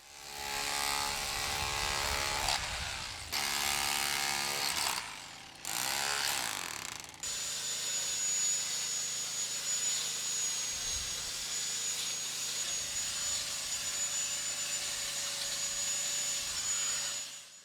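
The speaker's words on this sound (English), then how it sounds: "With some surface cleaning with the metal grinder brush thrown in." An angle grinder fitted with a metal wire brush whirs steadily while scouring the joints of an old stone wall, a sustained, loud mechanical whine broken by brief pauses and restarts, with no voices.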